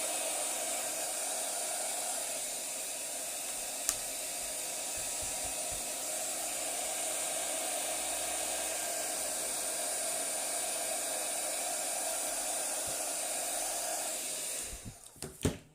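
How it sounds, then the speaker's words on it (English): A heat gun warms ink for a marbled background, blowing a loud steady airy roar for about fifteen seconds before cutting off with a few clicks and handling knocks. "I'm just going to get my heat gun. Heat that up a little bit."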